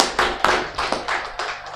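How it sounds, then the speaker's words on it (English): Sparse applause after a speaker at a criminal law review conference session, a few hands clapping in uneven, distinct claps, moderately close and unaccompanied by talk. "another round of applause for Mr. Eroko"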